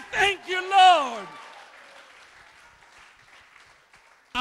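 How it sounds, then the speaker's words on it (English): A church congregation claps hands to God in soft, scattered applause that follows a loud shouted voice, the clapping lingering faintly before another voice cuts in at the end. "clap your hands to God and shout, yay!"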